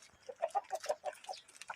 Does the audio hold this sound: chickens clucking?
yes